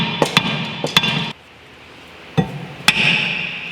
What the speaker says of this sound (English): So I like using my hammer.